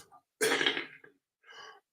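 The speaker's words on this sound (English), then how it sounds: "You may notice I have this cough." A single harsh cough bursts out close to the microphone, followed by a shorter, quieter throat sound, with silence around both and no talking.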